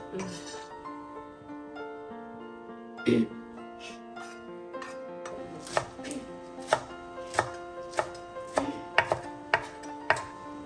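A knife chops green onions on a cutting board in a steady run of sharp taps that speeds up toward the end, over soft background music.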